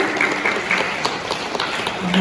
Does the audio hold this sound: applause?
yes